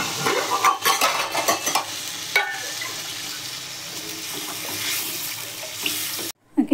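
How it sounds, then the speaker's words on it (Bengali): Water is poured into a fish and cauliflower curry in a pan, a steady broadband rush with sizzling and stirring clatter, close and fairly loud, ending abruptly in silence. "এবার আমি জল দিয়ে দেবো তরকারির মধ্যে"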